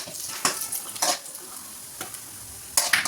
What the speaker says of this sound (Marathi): नंतर तूप विरघळल्यानंतर आपण यात ॲड करणार आहोत ड्रायफ्रूट्स